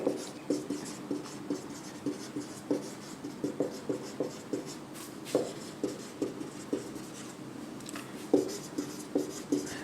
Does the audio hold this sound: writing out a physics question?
yes